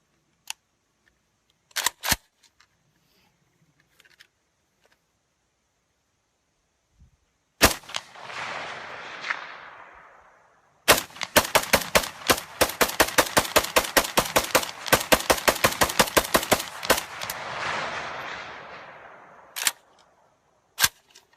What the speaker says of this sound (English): We'll start with the steel mag. AK-47 open sights, targeted almost 300 meters.